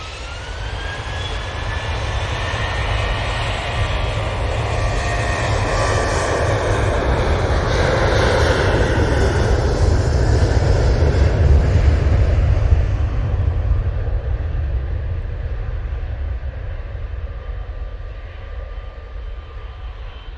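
An Emirates airliner taxis at Manchester Airport, a loud sustained jet engine roar that swells toward the middle and then eases slightly, heard alone without talk.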